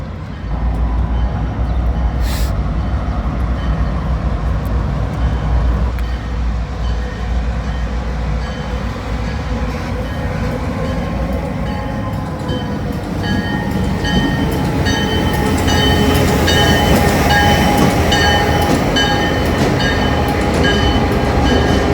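A CSX freight train rolls through the street of La Grange, Kentucky, on the old Louisville and Nashville line, its loud steady rumble and clanking cars continuing close by, with brake or wheel squeal rising toward the end.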